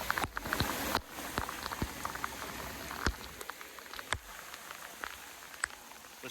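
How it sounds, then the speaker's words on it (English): Rain comes down on a back yard with drainage pop-ups, a dense steady patter broken by scattered louder drips and taps close by, continuous and with no talking. "let's get some footage in the rain for you guys."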